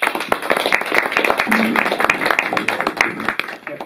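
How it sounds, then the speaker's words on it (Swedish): An audience applauds after a talk, with dense clapping at steady, full volume throughout. "stort tack en gång till. En applåd."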